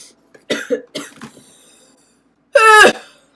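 Several sharp coughs in quick succession, then a pause and one longer, harsher throat-clearing cough, close by with no talking.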